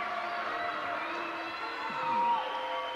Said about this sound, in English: And listen to the fans applaud.